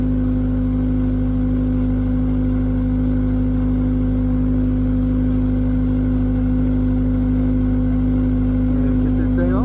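A skid steer engine runs steadily at idle with a constant low drone and strong harmonic hum, loud and close, staying even for the whole stretch with a small disturbance near the end.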